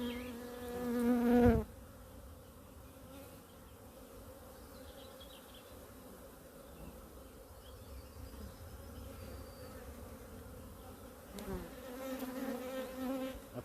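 Honeybees hum steadily around an open hive with foragers mostly away, a dense, even buzz that stays close and continuous throughout, with a louder burst near the start.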